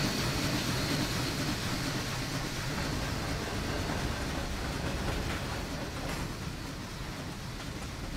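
In a Tokyo commuter train simulator game, a commuter train labors up a steep gradient, a steady rolling rumble of wheels and motors that eases slightly toward the end, heard alone without speech.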